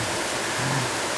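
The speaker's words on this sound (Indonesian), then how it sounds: "Nah ini kebetulan air terjun yang ada di belakang kita itu ya satu alam yang sangat luar biasa." Broadband rushing of a waterfall behind a family campsite in natural surroundings, a steady dense roar that is loud and unbroken with no voices.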